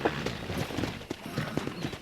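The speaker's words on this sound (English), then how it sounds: "Let's see if we can't wrangle some horses." Horses' hooves clip-clop in a steady, uneven patter through the whole stretch in the western video game Red Dead Redemption, at moderate loudness, with no clear neighing.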